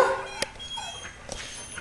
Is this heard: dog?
yes